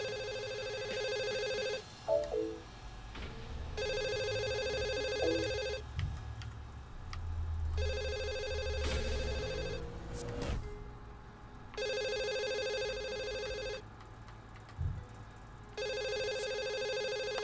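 A telephone rings in the VR video game The Assembly, loud repeated two-second bursts of electronic ringing separated by short pauses, over a low ambient hum with occasional thumps and brief noises between rings.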